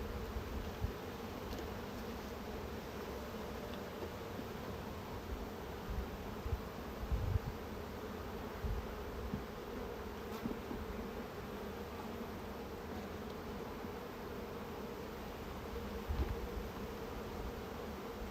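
Honeybees buzz around an open hive during an inspection, a quiet, steady drone of many insects with occasional faint rustles and knocks.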